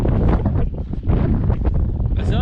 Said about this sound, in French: Même s'il y a du vent, hein. Le vent est chaud.